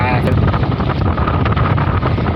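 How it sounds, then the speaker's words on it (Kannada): Cool wind gusting at the KRS backwaters near Mysore, a loud continuous roar buffeting the microphone, with a brief high tone at the start. "ತಂಪು ಗಾಳಿ ಬೀಸೈತೆ"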